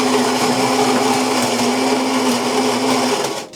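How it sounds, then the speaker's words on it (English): A Philips 3241/74 coffee machine brewing a cappuccino gives a steady, close mechanical hum and whir that holds throughout, then cuts off at the end. "Something's brewing in here."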